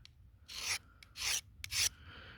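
A knife blade being sharpened, worked especially at its base near the handle: three separate rasping strokes, close and fairly loud, with short pauses between them.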